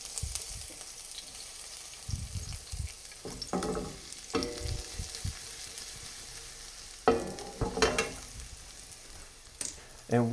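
Garlic sautés in a pan until golden, giving a soft steady sizzle with bursts of louder crackle and a few stirring scrapes, close and without talk.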